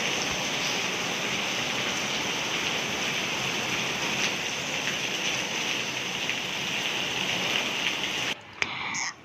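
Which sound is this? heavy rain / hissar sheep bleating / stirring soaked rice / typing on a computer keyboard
heavy rain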